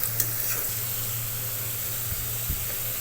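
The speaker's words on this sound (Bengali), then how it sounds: "আলুগুলো ভাজা ভাজা হচ্ছে" Cut potato pieces fry in oil while being stirred in a pan for a vegetarian banana flower dish, giving a steady, soft, continuous sizzle over a low hum, with no talking.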